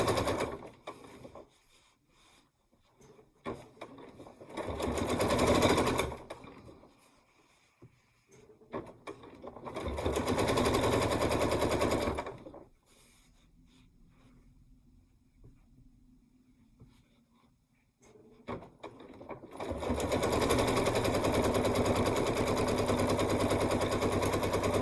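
A sewing machine stitches a barn quilt in several separate close runs of rapid, clattering needle action, with quiet pauses and faint handling noise between them.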